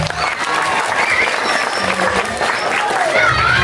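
Audience applause at a Balinese comedy performance at a temple, steady dense clapping throughout, loud and close, with voices mixed in.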